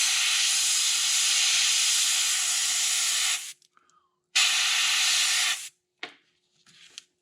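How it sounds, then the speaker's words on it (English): An airbrush sprays paint onto a custom fishing lure at about 18 to 19 psi, hissing in two sustained bursts, the first long and the second shorter, separated by near silence and small clicks. "And again, just spraying mainly."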